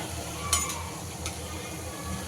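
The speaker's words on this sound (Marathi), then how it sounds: "आपण याला दोन्ही बाजूनी छान ब्राउन फ्राय करून घेतलंय।" Lentil dal vadas fry in hot oil, a constant close crackling sizzle with a sharp clink of a utensil against the pan partway through.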